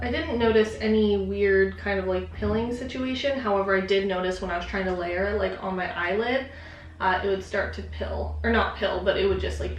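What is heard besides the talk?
No everyday noise stands out behind the speech.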